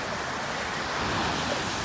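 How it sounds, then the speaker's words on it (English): Wind and small ocean waves form a soft, even wash of surf and breeze, steady and moderately faint throughout, with no voices. "yeah, windy conditions, minimal waves."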